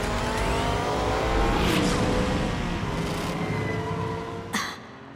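Race cars in a video game roaring at full throttle as they overtake, a loud sustained engine drone with pitch sweeps, easing off near the end after a brief sharp burst.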